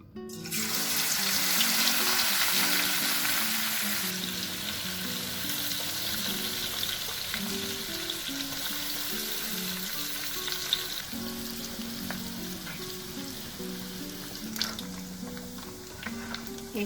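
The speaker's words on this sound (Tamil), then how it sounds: "ஃபர்ஸ்ட் இந்த நெத்திலியை நான் பொரிக்க போகிறேன்" Anchovies (ikan bilis) frying in a pan of hot oil for a potato sambal, a steady loud sizzle and crackle running throughout with occasional clinks of stirring, no talking.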